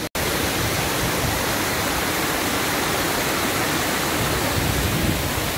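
Štrbački buk, a 24-metre waterfall tumbling over tufa deposits, gives a loud, steady broadband roar close by that holds unchanged throughout after a very brief dropout at the start.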